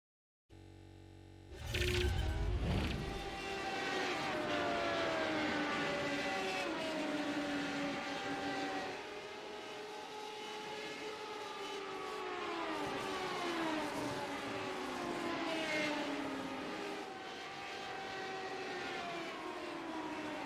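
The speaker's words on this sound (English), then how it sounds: "When you hit the loud pedal, that car just screams a little too loud." A race car engine screams at Barber Motorsports during an SR8 Americas round, loud and close, its high pitch rising and falling through gear changes after a sudden arrival, alone without voices.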